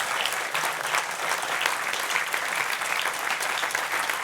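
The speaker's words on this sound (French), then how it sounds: "L'atelier Altagne, on vous applaudit" An audience applauding at a live event, dense steady clapping from many hands, loud and sustained for the whole stretch without pauses or voices on top.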